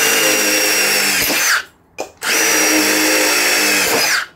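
A Milwaukee impact driver spins a red helix impact-rated bit through material in two loud, close, whining bursts separated by a brief pause, with the pitch dropping as each burst ends.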